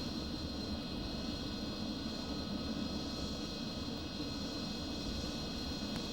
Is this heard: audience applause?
no